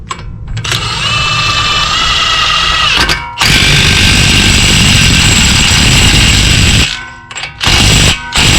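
Power tool or impact gun whirring and ratcheting as an axle nut is tightened on a 2020 Toyota Sienna LE during front axle replacement, loud and close, in two long runs broken by brief pauses.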